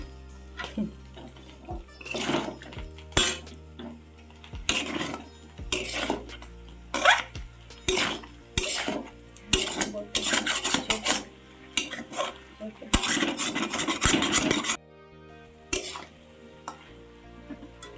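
A spoon scrapes and clanks against a pan while jackfruit curry with shidal and a splash of water is stirred, irregular bursts of scraping and tapping close by, no talk.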